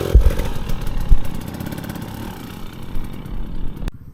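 A stock 2023 Beta 200 RR dirt bike engine runs steadily and loud, its buzzy drone rising and falling for about four seconds before cutting off abruptly near the end.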